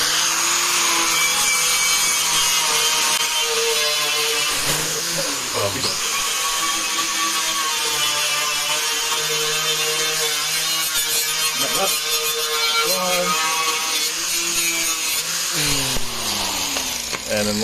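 Scraping old material off EZGO TXT/Medalist golf cart parts: a steady, close rasping scrape runs continuously for the whole stretch with a few brief harder strokes, and a voice is audible now and then beneath it.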